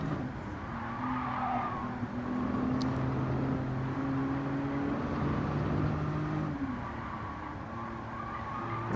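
A Toyota Alphard van lapping the Nürburgring in Gran Turismo 7, its engine holding a steady sustained drone that shifts pitch slightly as speed changes, with faint tire noise underneath and no talking.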